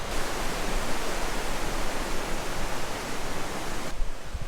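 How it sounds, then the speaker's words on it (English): Water from the wake of the cruise ship P&O Britannia rushes in a loud, steady roar that continues without a break. "you can probably hear the wake"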